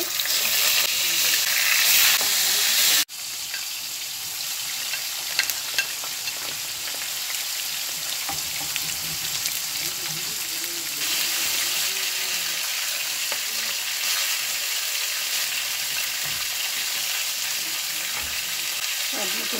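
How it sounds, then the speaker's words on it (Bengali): Coral fish fry in hot oil in a pan for a mustard fish bhuna, with a loud, close, continuous sizzle that jumps in level at one point and then crackles and hisses steadily throughout. "এখন মাছ ভাজবো। তেল দেওয়া হলো, মশলা কষানোর জন্য তেল দেওয়া হলো। তেল গরম হয়ে গেছে।"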